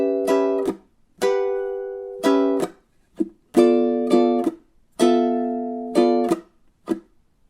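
Ukulele strums out a blues turnaround in rhythmic bursts of chords, each ringing briefly then choked off, repeating across several bars, close and clear with no voices.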